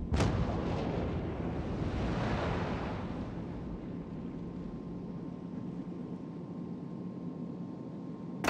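Naval guns fire in a warship video game, with a sharp initial blast followed by a long, dense rumble of heavy cannon fire and spray, steady and fairly loud throughout.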